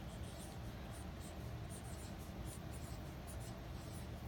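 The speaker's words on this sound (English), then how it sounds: "let's first use our dry erase marker to write our I can statement" A dry erase marker squeaks and scratches across a whiteboard in a steady run of close, quiet strokes, with no talking.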